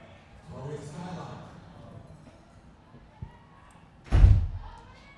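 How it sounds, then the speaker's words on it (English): A voice speaks briefly, then after a pause a single heavy thud rings out, like a door slammed shut nearby. "Can you please shut the door?"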